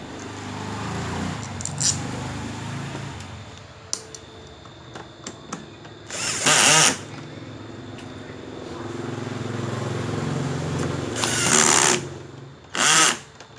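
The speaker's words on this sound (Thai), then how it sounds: "ต่อไปก็ใส่น็อตเลยนะครับ" A power screwdriver drives screws into a Hatari electric fan, with two short whirring bursts and a third brief one separated by quieter handling clicks and rattles, close up.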